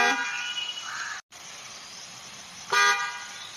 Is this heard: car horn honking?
yes